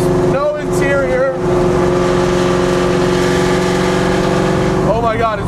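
A Ford Racing 302 V8 in a caged, interior-free 1989 Mustang American Iron race car rumbles loudly and steadily at close range, with a short rev near the start and another blip at the end, and a voice is heard over it.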